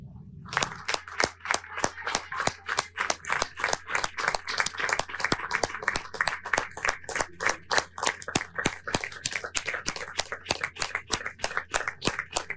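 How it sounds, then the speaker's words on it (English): Steady, fast hand clapping by one or a few people, sharp close claps repeating evenly for several seconds without any voices. "He kept clapping after Donald Trump left the room."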